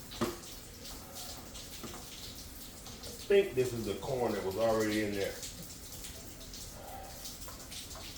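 Tap water runs into a cooking pot while crabs, potatoes, corn and garlic are being prepared, a steady splashing rush that swells in the middle of the clip beneath someone talking.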